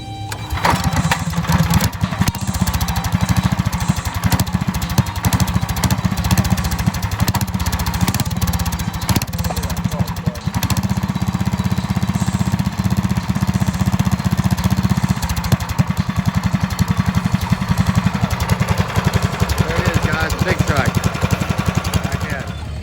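A Predator 8 hp big block engine on a large trike starts and runs, giving a loud, steady mid-pitched engine drone throughout, with a lawn mower running in the background and some talking mixed in.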